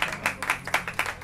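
A small audience at a lawyers' press statement claps in uneven rhythmic bursts, a few hands near the microphone giving sharp, spaced beats over a faint room murmur.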